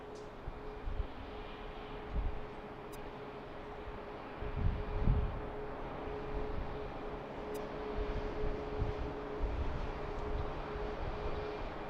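A Southwest airliner arrives at BWI airport, its engine roar a steady, distant broadband rumble, with a low swell building midway and lingering to the end, no voices heard.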